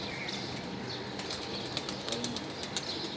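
Racing pigeons lift off in a sustained whirr of flapping wings, close and steady, with faint bird calls mixed in at a pigeon-racing event in Lahore.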